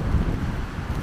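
Strong wind buffets the microphone on an exposed hilltop at a hillfort on the Sudmerberg, a steady low roaring rumble with gusty swells throughout and no voices.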